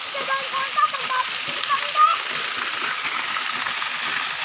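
A waterfall roars in a steady, loud, continuous rush, with voices talking faintly over it.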